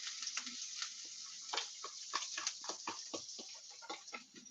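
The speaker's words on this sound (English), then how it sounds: "now that it's starting to smell, I'm gonna go ahead and add my onions" Onions fry in a hot pan, giving a soft, steady sizzle with quick crackling pops and occasional stirring ticks, heard close but quiet, with no one speaking.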